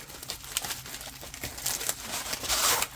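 Bubble wrap around cheap diamond painting kits crinkles and crackles close by, a steady run of small crisp pops and rustles that grows louder and denser toward the end.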